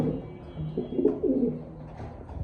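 A pair of grizzle pigeons coos close by, with soft, low, warbling calls rising and falling over two and a half quiet seconds.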